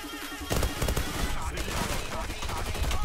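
Rapid submachine gun fire in the shooter game Zula, from a Tommy Gun or PP-2000, bursts in loud and dense after a brief lead-in and keeps rattling steadily beneath game sounds and a voice.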